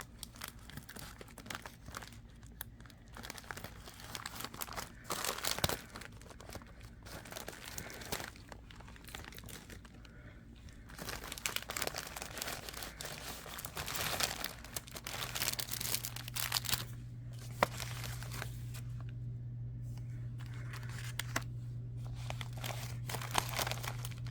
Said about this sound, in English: So let's open this up, get the scissors out, open this up and see what we've got